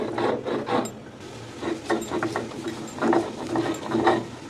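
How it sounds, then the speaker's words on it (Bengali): Almonds and pistachios being ground into a paste on a grinding stone for chicken biryani: repeated close rasping, rubbing strokes in an uneven rhythm, with no voices. "কাঠ বাদাম পেস্তা বাদাম এটা বেটে নিতেছি"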